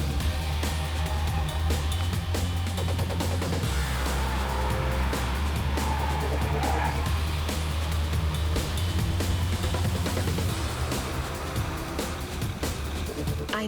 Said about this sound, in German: Auf losem Untergrund zeigt der Quattro-Antrieb seine Stärke.